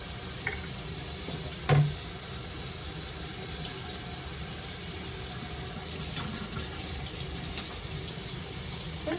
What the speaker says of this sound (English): I'm going to go ahead and added soap and water to the straw.